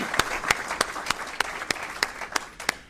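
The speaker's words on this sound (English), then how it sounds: "Could I get a round of applause for these folks" Applause for the organizers at a DINFOS Hall of Fame ceremony, heard as a run of distinct, evenly spaced sharp claps, about eight or nine in quick succession, fairly close and moderately loud.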